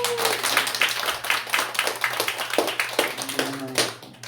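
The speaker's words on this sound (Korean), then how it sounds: "우리 박수로 환영합니다." Scattered, uneven hand clapping from a small church congregation welcoming someone, a few dozen sharp claps over a steady low hum, fairly close and moderately loud.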